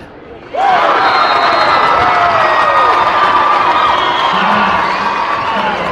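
Gym crowd at a Class 4A high school basketball game, Riverton vs Kelly Walsh, roaring and cheering loudly in reaction to a shot in a tied game, sustained shouting and whoops filling the whole stretch.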